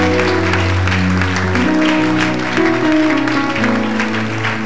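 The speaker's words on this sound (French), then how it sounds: "Applaudis très fort, Seigneur Jésus." A church congregation claps loudly and steadily during a Sunday service, with sustained sung or held tones from music or voices running beneath the applause throughout.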